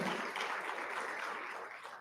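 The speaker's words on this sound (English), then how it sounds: "Let's give him a round of applause, please." Applause fills a hall at a college of engineering end-of-year graduation ceremony, a dense crowd clapping at steady strength before tapering off slightly.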